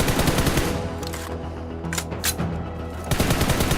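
A gun fires in the PUBG Mobile training ground video game: a dense, loud, continuous burst of rapid automatic shots running for several seconds, with a brief pause before firing resumes.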